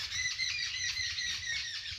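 Birds in the garden of Sugriv Mahadev temple at Rohida keep up a continuous chorus of high chirps and tweets, moderately faint and slightly distant, with no voices.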